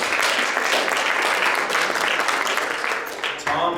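A live audience at a political freedom summit claps steadily for Tom, a dense, sustained wash of applause that carries at even loudness for several seconds, then thins slightly near the end.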